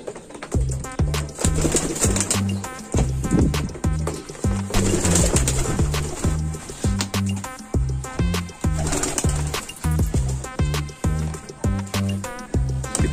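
Racing pigeons coo close by in a loft, their soft, throaty calls repeating in steady rhythmic bursts and overlapping continuously with no talk.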